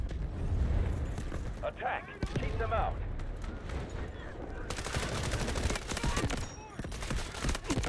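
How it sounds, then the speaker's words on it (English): Gunfire in the shooter game Delta Force, with rapid bursts of automatic shots crackling near and far, growing into a dense volley, while someone talks over it. "There's so many people shooting at me."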